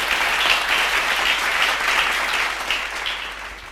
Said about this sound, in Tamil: கைத்தட்டி வருது.